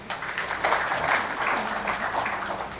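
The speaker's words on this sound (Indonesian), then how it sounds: "Tepuk tangan dulu." An audience claps at a ceremony opening an electricity installation aid program in Central Kalimantan, with a steady dense round of applause from a crowd that fills the whole moment.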